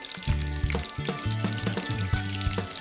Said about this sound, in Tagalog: Una munang magpapainit ng mantika, sunod na igigisa ang sibuyas at bawang.